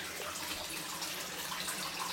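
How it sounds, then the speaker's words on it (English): Water gushes out through an aquaponics bell siphon drain, a faint, steady hissing rush with no air gurgle and no talking. "it goes from drain to a big gush, and it's almost like no air, it's just a big rush of water"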